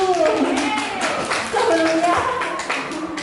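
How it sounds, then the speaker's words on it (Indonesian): Schoolchildren at an elementary and junior high school event clap their hands in a brief burst, mixed with children's voices and chatter. "ya tepuk tangan dulu."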